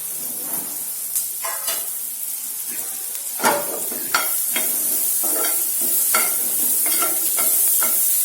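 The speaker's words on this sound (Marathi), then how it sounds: "बटर व्यवस्थित टाकून यात आपण बारीक चिरलेला लसूण टाकून देऊया." Chopped garlic sizzles in melted butter in a pan for red sauce pasta, a steady close frying hiss broken by repeated scrapes and clacks of a stirring spoon, with no talk.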